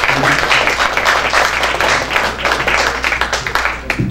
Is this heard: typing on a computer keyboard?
no